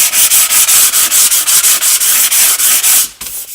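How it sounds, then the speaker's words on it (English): Hand sanding of a pitted metal NuTone Deluxe 8-inch patio speaker grill using a small pad of 220-grit sandpaper: loud, steady back-and-forth rasping strokes in a quick regular rhythm, close up, stopping near the end. "we're going to do is just going to carefully sand the surface"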